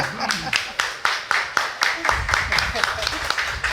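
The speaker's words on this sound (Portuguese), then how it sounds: "obrigada pelas palmas" Audience applause during a talk at a bar, with a steady run of rhythmic claps close by and a voice murmuring underneath.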